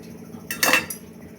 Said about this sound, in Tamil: கை விடாமல் கலக்கிட்டே இருங்க.